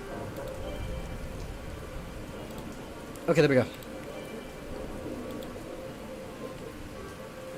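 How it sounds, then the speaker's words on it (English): Steady rain sound effect playing continuously as background on a livestream, even and moderately loud, with someone briefly speaking over it midway. "Let me get my rain noises back up."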